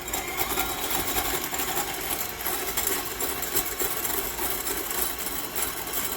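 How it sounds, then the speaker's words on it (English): A whisk attachment whips dalgona coffee in a high-sided cup, a steady, fairly quiet whirring buzz with a rattling edge that holds unbroken throughout. "I do have my whisk attachment, so I'm going to whisk this until it changes color and gets light and frothy."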